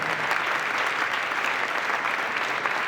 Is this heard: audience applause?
yes